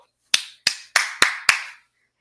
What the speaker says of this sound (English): let's go ahead and clap to this